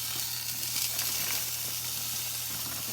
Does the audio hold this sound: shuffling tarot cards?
no